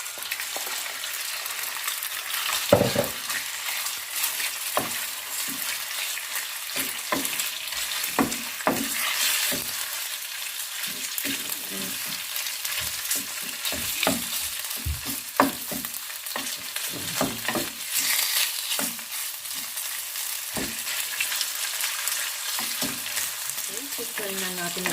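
Chicken breast stir-frying in a pan over high heat, a steady loud sizzle broken by frequent sharp crackles and spatters, with occasional stirring clatter and no voices.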